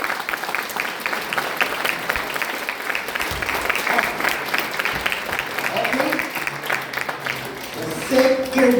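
Engineering students at a college session clap loudly together, a dense, steady patter of many hands that swells near the end while voices talk over it.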